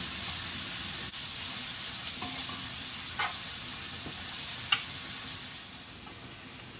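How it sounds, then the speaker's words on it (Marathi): Asafoetida, curry leaves and green chillies hit hot oil in a pan, giving a steady, bright sizzle with a few sharp crackles and spits, close up, with no talking. "हिंग घालते कढीपत्ता घालते हिरव्या मिरच्या घालते"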